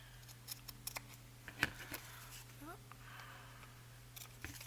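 Scissors trim paper for a patchwork journal cover, a few faint, short snips close by against a quiet room hum.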